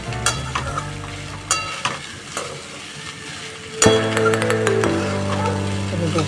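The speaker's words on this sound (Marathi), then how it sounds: "गॅस मोठा करते आता मी. साबुदाणा करून घेऊ आपण." Sabudana frying with green chilli, oil and potato on a high flame sizzles steadily, with scraping stirs and utensil taps. It grows louder partway through, and someone talks over it.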